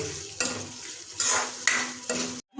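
A ladle stirs soybean masala gravy thickened with cashew, melon seed and poppy seed paste in a pan, with several scraping, sizzling strokes in sequence followed by a brief pause.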